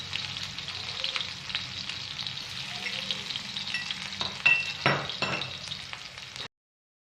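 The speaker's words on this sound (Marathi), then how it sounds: "तर त्यामध्ये आपण हा ठेचलेला लसूण टाकणार आहोत आणि लालसर कलरवरती परतून घेणार आहोत" Crushed garlic sautés in hot oil for red amaranth bhaji, a steady close sizzle with crackles and a few stirring scrapes before it cuts off abruptly, no talking.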